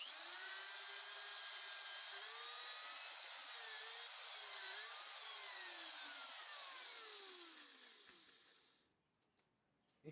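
A power drill whines steadily with a rough rubbing, polishing hiss as it spins a Honda gear knob for several seconds, then winds down and stops, leaving near silence.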